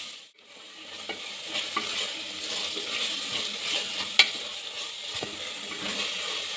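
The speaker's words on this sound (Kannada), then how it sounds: "ಹಾಕಿ ಮೊಸರು ಹಸಿ ಸ್ಮೆಲ್ ಹೋಗೋವರೆಗೂ ನೀಟಾಗಿ ಹುರ್ಕೊಳ್ಳಿ" Yogurt and mint fry in a pan for egg biryani, giving a steady soft sizzle while a spoon stirs and scrapes at irregular intervals, heard close with a few sharper clinks.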